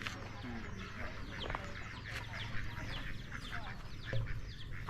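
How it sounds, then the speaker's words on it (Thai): Chickens cluck and call around a rural Thai village farmyard with ducks nearby, a busy, continuous chorus of scattered clucks over a steady low background hum. "ไก่ก็เต็มอยู่นี่เป็ดก็เต็มนี่"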